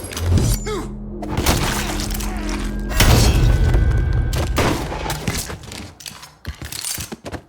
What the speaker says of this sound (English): that explosion they heard was him somehow missing an RPG shot